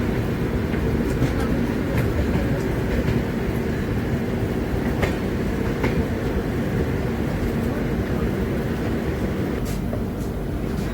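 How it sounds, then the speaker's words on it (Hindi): A Shatabdi Express pulls out of Haldwani station with a loud, continuous rumble and roar of the rolling train, occasional clacks and creaks from the wheels and cars heard up close from on board. "पंद्रह मिनट डिले के साथ हल्द्वानी स्टेशन से डिपार्चर होता हुआ हमारी ट्रेन का।"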